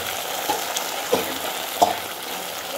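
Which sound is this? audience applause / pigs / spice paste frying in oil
spice paste frying in oil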